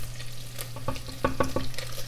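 Bacon fries in a pan with a moderate sizzle under a steady low hum. Several quick stirring knocks and scrapes land close together.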